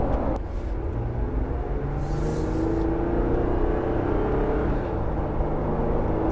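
A truck engine drones steadily from inside the cab, with road rumble and a brief clunk of wheels crossing rail tracks near the end.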